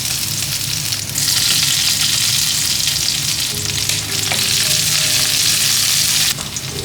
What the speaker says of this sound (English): In a pan, I'm adding some ghee and cumin seeds. Then add in garlic and green chilies.